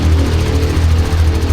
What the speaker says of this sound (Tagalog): Wala na yung ingay. Ito yung masarap pakinggan na tunog ng makina.